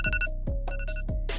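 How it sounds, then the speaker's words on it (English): Electronic alarm clock ringing in a repeating pattern of short tonal bursts with a steady pitch, several cycles in quick succession, loud and close with no talking. "It could be your alarm when you wake up"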